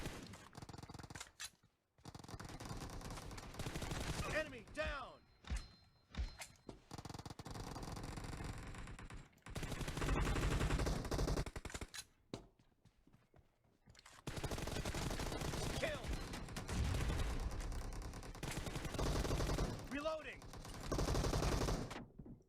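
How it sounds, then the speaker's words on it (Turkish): AK rifle bursts in the mobile battle royale game PUBG Mobile, loud rapid automatic fire in long sustained volleys separated by short gaps, close and dominant with muffled game ambience between bursts. "AK'li bayağı iyi vuruyor ya."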